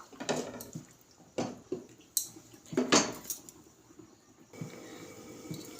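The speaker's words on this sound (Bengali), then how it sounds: "এবার চিকেনটা নেড়ে দেব।" A spoon scrapes and clanks against a pot while chicken curry is stirred, giving several sharp metallic knocks in uneven bursts, close up, with a quiet hiss under them.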